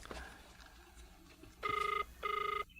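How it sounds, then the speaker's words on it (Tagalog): A cellphone rings nearby in two short, regular bursts of bright trilling tone, heard in an Ilocano drama scene over a quiet room background. "Dito agri-ringan. At iti cellphone."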